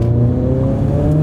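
A custom Subaru engine with an external wastegate drones at a steady, loud rev, a brief sustained rumble heard from close inside the car.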